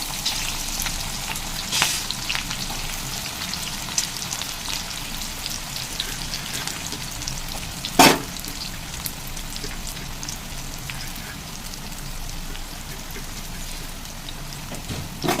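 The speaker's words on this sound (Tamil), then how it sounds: "வெங்காயம் நல்லா வதங்கட்டும்" Cumin, green chilli and sliced onions fry in hot oil, a dense, steady sizzle and crackle filling the whole stretch, close and continuous, with one brief sharper spatter partway through.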